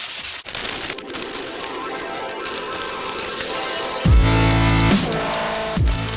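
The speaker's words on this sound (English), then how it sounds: "Now I'm just going to flat it down with 600 grit." Fibreglass test piece for a rally car mould being flatted down with 600 grit abrasive, a continuous close scratchy rubbing with a heavier, louder grinding surge toward the end.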